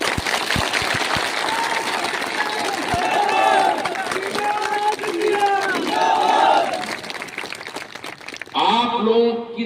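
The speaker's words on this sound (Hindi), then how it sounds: "अगर मेरे बात से सहमत हो तो जोर से ताली बजाओ।" A large crowd at a political rally claps and cheers loudly and continuously, with shouts rising and falling over the applause.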